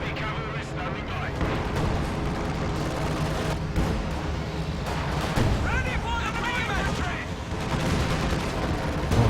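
A 152 mm gun fires in the Company of Heroes 2 battle, heavy booms landing within dense, loud battle noise as a commentator talks over it.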